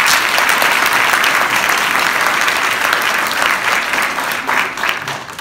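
Loud, sustained applause from a cinema audience at a film premiere in Reims, dense continuous clapping from many hands that holds steady throughout and eases slightly at the end.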